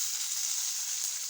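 Ginger garlic paste sautéing in hot oil with mustard seeds, urad dal, chopped onion and curry leaves in a pan, giving a steady, even sizzle throughout with no talking.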